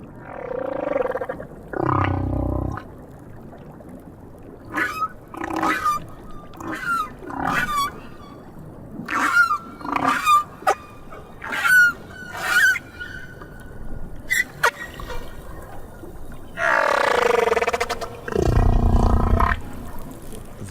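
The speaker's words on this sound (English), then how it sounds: "The whales in different oceans have different songs." Humpback-style whale song recorded in the South Pacific: long, deep moaning calls and higher whooping cries in separated phrases, some loud and sustained, others brief and clipped, with no talking.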